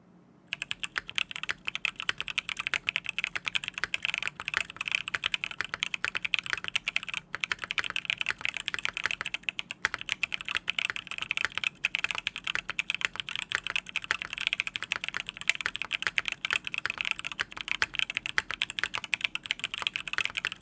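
Fast, continuous typing on a keyboard fitted with tactile switches that use linear housings and tactile stems, a dense stream of crisp keystroke clacks running steadily and close up with no talk.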